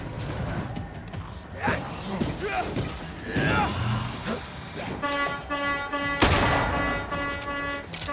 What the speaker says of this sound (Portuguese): tem um retardado buzinando ali.